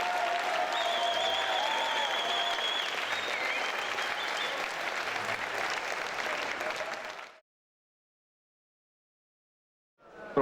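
A boxing event's crowd applauds both fighters after the main-event bout, a loud, sustained clapping that breaks off abruptly into silence before faint noise returns.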